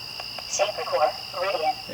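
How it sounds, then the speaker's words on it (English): Frogs croak on a dark night outdoors in a run of quick, rattling calls over a steady high insect-like whine, fairly close and continuous through the moment. "there are frogs everywhere"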